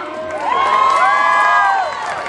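A live concert crowd in Anguilla cheers and shouts loudly, with overlapping high whoops and screams swelling for about two seconds before easing off, plus a little clapping underneath.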